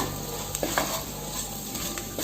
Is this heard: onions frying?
yes